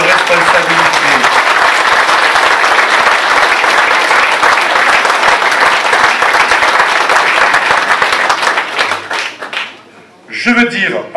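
A meeting audience breaks into loud, sustained applause, dense clapping close by that holds steady for about nine seconds before fading, followed by a brief lull and a short burst of talk and movement.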